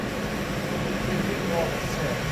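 A Citizen L38VIII CNC Swiss lathe spins up, producing a steady broadband whir with a faint rising tone. It sounds close and continuous over a short stretch, with no clear talking.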